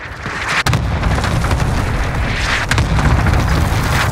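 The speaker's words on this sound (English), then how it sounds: "Allied cluster strike inbound." Cluster strike explosions in Call of Duty battle royale, a loud, continuous rumbling barrage with sharp booms standing out, no voices.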